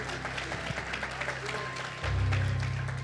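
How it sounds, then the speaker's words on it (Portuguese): Church congregation applauding during a worship service, moderate clapping spread through the room, joined near the end by a loud sustained low musical tone. "aplauda o Senhor Jesus"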